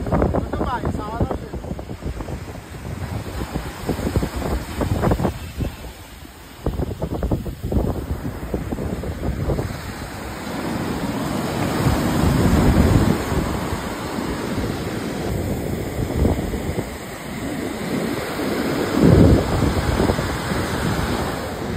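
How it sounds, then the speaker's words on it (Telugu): Big ocean waves surge and crash at RK Beach in Vizag on a rough day, a continuous roar of surf buffeted by heavy wind noise, with people talking over it. "పెద్ద పెద్ద అలలు వస్తున్నాయి"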